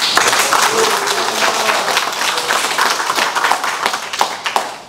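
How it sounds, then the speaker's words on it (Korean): At an indoor meeting of small business owners welcoming lawmakers, a room of people claps together in a lively, closely packed burst of hand claps with sharp individual taps standing out. "우리 다 같이 함께 크게 환호하면서 박수 치고 의원님 환영하면서"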